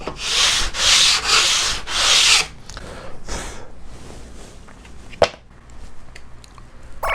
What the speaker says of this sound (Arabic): نلف الصنفرة بالشكل ده ونصنفر بيها.